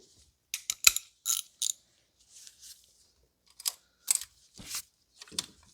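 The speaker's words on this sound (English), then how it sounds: "Now I got this bolt started, so we are going to tighten it up." Ratchet tightening a spark plug bolt on a 2016 BMW M235i: several short bursts of clicking, close and fairly quiet, in uneven groups with brief pauses between.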